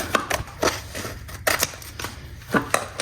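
Scissors snipping through a ribbon tail on a decorated Christmas tree, several short crisp cuts close by in an irregular rhythm, clear and alone without talk.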